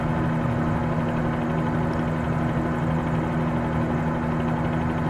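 A helicopter engine in a flight simulator game drones steadily, with a constant low hum and rotor rumble that holds even and unbroken throughout.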